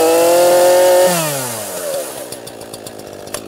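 ECHO CS-4910 chainsaw, its loud high revving engine winding down, then settling into a rough, pulsing idle with rapid ticking.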